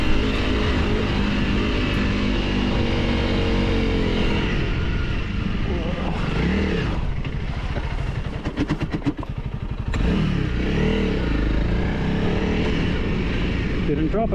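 A Honda CRF300 Rally motorcycle rides through sandy desert, its engine a loud, steady drone with shifting pitch, a brief rough dip partway through, and wind buffeting close to the mic.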